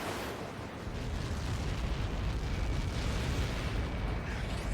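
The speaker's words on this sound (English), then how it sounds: "How many got caught in that explosion?" A missile impact explosion in the Ace Combat 7 combat flight game hits as a massive, continuous roaring blast that fills the whole moment with dense rumble, loud and close, with no voices over it.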